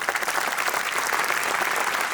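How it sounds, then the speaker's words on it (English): Steady applause from a crowd, dense clapping filling the whole stretch at an even, moderately loud level with no talking. "Let's clap for them."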